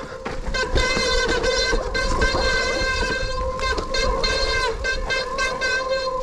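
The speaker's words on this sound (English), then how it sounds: "Squeaky brakes." Mountain bike brakes squealing shrilly on a woodland trail descent, repeated loud high-pitched squeaks pulsing over tyre rumble and rattling, with no speech.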